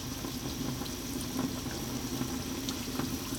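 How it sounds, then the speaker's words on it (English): Salt and pepper chicken wings fry in hot oil, a steady even bubbling and sizzling hiss with small pops, close and continuous, no voices. "You can see it's bubbling nicely, but not going absolutely berserk."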